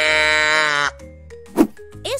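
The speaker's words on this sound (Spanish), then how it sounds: "Este es el sonido que hace la vaca." A farm cow's long, loud moo with a rich harmonic tone, held for nearly a second, followed by a few quieter, fainter sounds.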